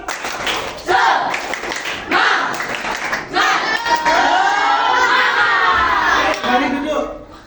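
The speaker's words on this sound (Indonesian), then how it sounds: "Coba tepuk semangat." A classroom of children claps and shouts energetically during an ice-breaker cheer. Bursts of rhythmic clapping and loud excited voices fill the room, with an adult voice among them.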